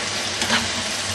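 Masala frying in a pan on a stove, a steady soft sizzle with a faint stir or scrape midway, heard alone.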